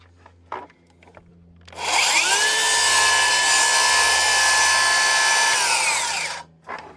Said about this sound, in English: I'll actually put the saw into the kerf, make sure it's actually not binding, and then I'll start it once I'm in there